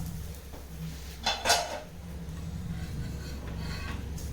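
A lid is lifted off a pan of cooking ragi dosa, giving a brief metallic clink and scrape in the middle against a low steady kitchen hum.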